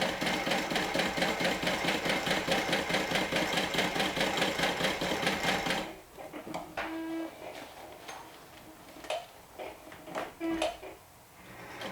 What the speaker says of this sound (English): So I'm sewing through both layers. I'm sewing through the main and the lining.